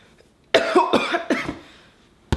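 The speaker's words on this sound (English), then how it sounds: "Why do I feel like I got a cough?" A short burst of several harsh coughs close to the microphone, followed by a pause and one more brief cough at the end.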